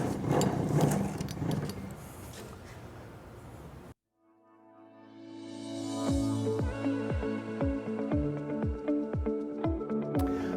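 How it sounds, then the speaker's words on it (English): A crank handle turning to lower the table of a SuperMax double drum sander gives a mechanical ratcheting whir after a brief silence, with evenly spaced clicks repeating steadily, close and moderately loud. "We'll need to pull that block out by lowering the table with the crank handle."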